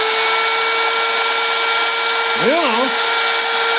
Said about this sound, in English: So when the shaft is turning and the die grinder is turning,